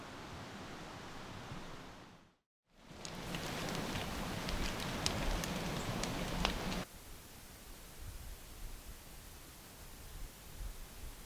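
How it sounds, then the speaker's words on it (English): Rain pattering steadily on the roof of a small kei truck camper, a dense continuous hiss that cuts out briefly and then returns, with a louder spell of sharper drips before it settles to a softer patter. "It is still raining"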